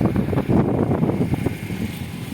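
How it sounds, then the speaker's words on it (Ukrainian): Gusty wind rumbling against the microphone, loud low buffeting that rises and dips without pause. "Сьогодні у нас трохи вітер."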